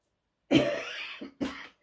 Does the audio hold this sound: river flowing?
no